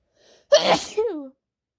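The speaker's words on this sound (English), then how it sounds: "My sneezes today have been so strong." A strong sneeze from someone with allergies or a cold: a faint intake of breath, then one sharp explosive burst trailing into a voiced, falling tail, loud and close, alone.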